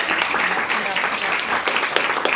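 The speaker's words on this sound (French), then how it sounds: "merci Laura, on t'applaudit." An audience applauds at a French solopreneur meetup. The clapping is dense and continuous, with voices mixed in over the whole stretch.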